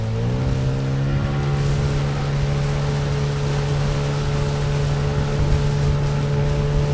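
A Hangkai 12hp outboard motor drives a boat across choppy water, holding a loud, steady drone close by with wash and spray noise throughout and no talking.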